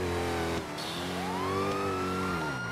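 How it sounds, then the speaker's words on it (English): A wailing police siren in the game GTA V, sustained tones rising and sweeping over a steady engine drone, loud and close with no talking. "Turn them sirens on, boy."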